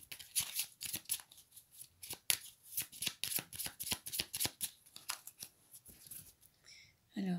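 Tarot deck being shuffled by hand, a run of quick riffling card bursts in close succession, fairly faint and near, ending with a brief sound at the close.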